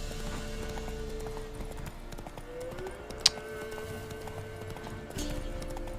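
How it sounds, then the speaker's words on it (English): Horse hooves clip-clop steadily in The Witcher 3 video game, a moderate rhythmic trot beneath continuous game music and ambience, with one sharp transient partway through. "Puto caballo."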